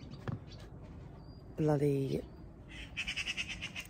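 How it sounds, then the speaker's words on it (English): A crow near horses gives a loud, short harsh call in the middle, with quieter scattered squawks before and after; a person speaks briefly. "the crow is so annoying"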